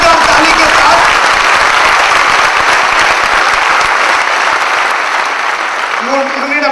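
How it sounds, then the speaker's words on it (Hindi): Loud, sustained audience applause fills the room at a motivational training seminar, steady throughout with a voice briefly heard near the end. "जोरदार ताली के साथ।"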